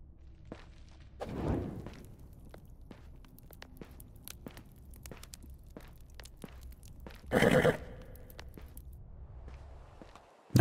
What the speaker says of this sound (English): Look at lonely little donkey